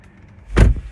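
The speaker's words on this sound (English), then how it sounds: "if I turn this car off, open the door." Car door opening on a 2025 Mercedes-AMG CLA 45 S after the engine is switched off, a single close, solid swelling sound peaking mid-clip with a softer follow-up, heard alone with no talking.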